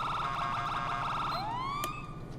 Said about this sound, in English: This is kind of just the normal GTA Siren you get when you have it installed.